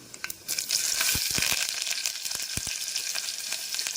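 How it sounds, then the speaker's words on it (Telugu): Onions dropped into hot oil in a pan for cucumber dal burst into a loud close sizzle that holds steady, with a few clinks and thumps of a utensil at the start and during stirring. "ఇందులో నేను ఆనియన్స్ వేస్తున్నాను"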